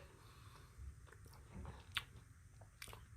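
Soft crunchy bites and chewing of Reese's Pieces candy, close and quiet, with a few sharp crunches amid steady mastication and no talk.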